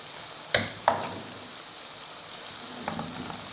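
Beef sizzling and frying in masala inside a handi, with two sharp pops early on and a low, steady crackle running underneath.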